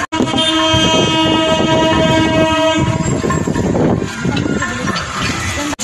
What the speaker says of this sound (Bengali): দেখুন ওই ট্রেন আসছে, ট্রেনটার সাউন্ডটা দেখুন